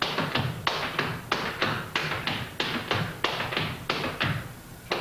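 Flatfooting dance steps, a three-sound walking step crossed in front, give sharp shoe taps in a steady rhythm of repeated triplet clusters on a hard floor, close and fairly loud, with no talking.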